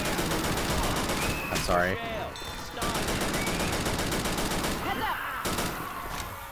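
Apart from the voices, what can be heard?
gunfire in the video game Left 4 Dead 2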